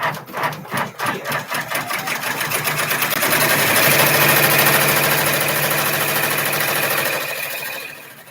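Embroidery machine stitching, a fast rapid needle chatter that begins with distinct pulsing strokes and settles into a steady mechanical whir, close and loud, no talk.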